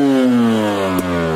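A dirt bike engine runs with its choke left on, a loud, close, droning buzz at a slightly wavering pitch, with a brief blip near the end, no talking.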